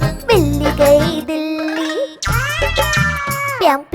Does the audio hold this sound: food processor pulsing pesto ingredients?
no